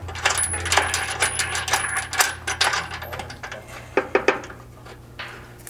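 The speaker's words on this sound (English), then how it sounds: "grab the 1/2-inch bolt with a washer, slide it through this front hole" A 1/2-inch bolt with a washer slides through the front hole of a metal rock slider on a Bronco, giving a string of close metallic clinks and rattles with no talking.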